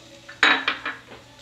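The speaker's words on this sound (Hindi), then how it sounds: "इसको हम अच्छी तरह से भुनेंगे इस तरह से।" A metal spatula clanks and scrapes against a pan while garlic and green chillies are stir-fried for hot and sour soup, giving a few loud, close clatters over quiet background.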